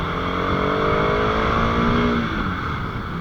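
A 2024 Bajaj Pulsar RS200 motorcycle's exhaust note while riding, a steady loud drone with rising engine harmonics and wind rush, holding close and constant throughout.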